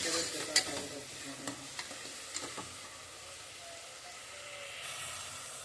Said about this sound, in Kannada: ಇದು ಒಗ್ಗರಣೆ ಕೊಟ್ಟೇನಿ. ಈಗ ಚಲತ್ನಾಗ ಮಿಕ್ಸ್ ಮಾಡ್ಕೊಳಕತ್ತೀನಿ